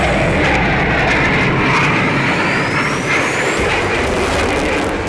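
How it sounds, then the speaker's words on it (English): Blue Angels Boeing F/A-18 Hornet jets flying at an air show, a loud, continuous jet roar with a slight shift in pitch as they pass, and no talking. "Today, and since 1986, they fly Boeing FA-18 Hornet jets at their performances."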